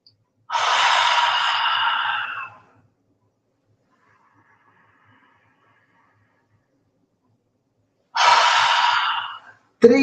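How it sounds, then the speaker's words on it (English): Two long, forceful breaths in a deep diaphragmatic breathing exercise during a morning routine, each a loud rushing exhale lasting about two seconds, separated by a long quiet pause, with a short breath starting at the end. "See, there's a full diaphragmatic breathing."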